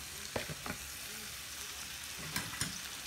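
Lamb chops frying in a pan with onion and red bell pepper, a soft steady sizzle broken by a few louder stirring scrapes, with no talking.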